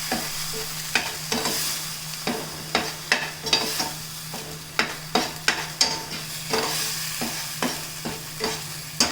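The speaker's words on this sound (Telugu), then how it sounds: "మాడకుండా చక్కగా వేగేద్దాము, పచ్చివాసన పోయేంత వరకు." Ivy gourd masala frying in a pan, close and steady sizzling punctuated by frequent rhythmic scrapes and clacks of a spoon stirring against the pan, no voices.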